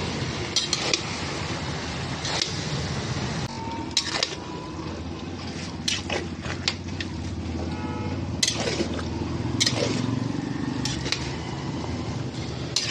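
Vegetables such as drumstick, carrot, radish and pointed gourd are stirred in a cooking pot, with scattered clinks and scrapes of a utensil against metal and a soft sizzle and fan hum underneath.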